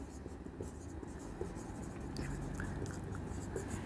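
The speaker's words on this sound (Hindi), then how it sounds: "जो कृष्णा है सही है उसको तो ऊपर ही लिखेंगे," Pen scratching on paper while an accounting entry is written out, quiet steady strokes with soft speech underneath.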